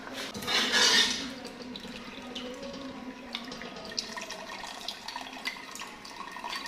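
Water drains and splashes steadily as boiled beef trotters for paya are strained in a kitchen, with a louder gush near the start and then a continuous trickle and light drips.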